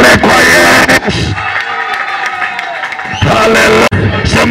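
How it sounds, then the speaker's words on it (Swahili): A church congregation bursts into loud applause and high ululating cries of praise to Jesus, with a dense crowd roar that dips mid-clip and swells again. "Makofi na vigelegele kwa Yesu."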